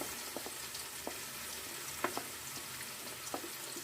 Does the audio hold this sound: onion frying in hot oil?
yes